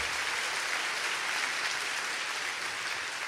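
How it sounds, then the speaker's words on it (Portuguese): Church congregation applauding during a Portuguese-language sermon, a dense, even roar of clapping from many hands, steady and filling the whole moment without talk on top. "Você pode aplaudir ao Senhor?"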